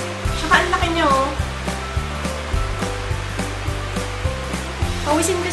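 A nearby electric fan blows a steady, loud whooshing airflow that holds throughout, with a steady mechanical hum underneath.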